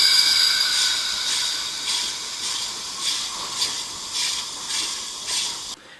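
A steam locomotive's air brake system on the Nevada Northern railroad hisses in a steady run of about eight rhythmic, pulsing bursts, close and fairly loud, then cuts off abruptly near the end.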